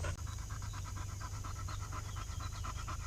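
A dog pants rapidly and steadily close by, a quick rhythmic huffing that goes on without a break over low background noise.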